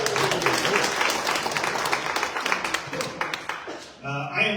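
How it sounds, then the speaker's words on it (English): A media audience claps together in a sustained round of applause that fills the room, thinning into scattered claps before a brief quieter gap and a final burst. "Give yourself a round of applause."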